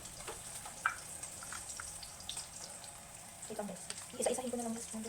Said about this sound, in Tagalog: iniisa-isa ko yung hotdog kaya sobrang matatalansikan talaga ako ng mantika dyan